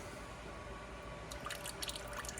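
Coolant from a 2002 Porsche Boxster S drips and patters into a pan as it drains, the soft droplets growing busier and more distinct over a low steady background hum, with no voices.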